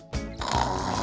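A snoring sound in a children's story, a short nasal rumble that rises and holds, likely a voice imitating the snore, heard close and alone.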